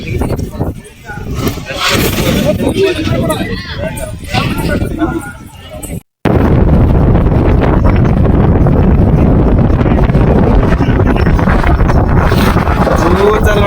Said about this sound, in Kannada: ಯಾವ ತರ ಗಾಳಿ ಐತೆ